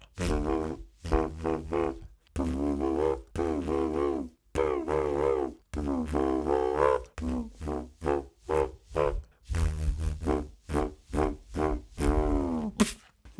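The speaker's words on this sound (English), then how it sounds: "So for this vocalized lip buzz technique, you can either start with a sung pitch or you can start with your lip buzz." A vocalized lip buzz with a sung pitch layered on top, beatboxed in a run of short rhythmic phrases with brief gaps between them, close and clear with no talking.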